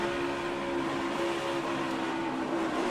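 A NASCAR Cup car's engine heard on board as the driver lifts off the throttle, a loud, steady, droning roar that holds constant and fills the whole moment without talk.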